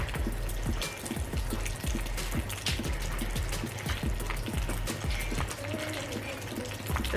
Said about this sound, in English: The water is distracting me from this broken pipe.